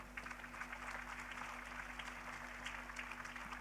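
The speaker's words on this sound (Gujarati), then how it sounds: "ખરેખર તાળી પાડવી જોઈએ આ લેડીઝને ફાઈવ ઉપર." A seated audience at a community gathering in Bhuj applauds the ladies with steady, faint clapping throughout, under a low constant hum.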